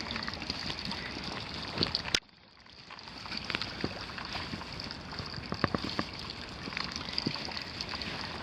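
Water leaking from an exterior house fixture, a steady hissing trickle heard close up outdoors, with a brief cut in the flow near the start before it resumes unchanged.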